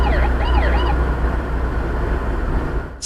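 A loud wailing dashcam siren sweeps up and down close by, heard from inside a vehicle with steady road rumble beneath.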